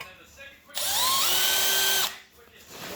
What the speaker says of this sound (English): And we'll drill that hole.